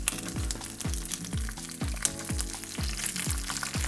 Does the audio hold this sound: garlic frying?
yes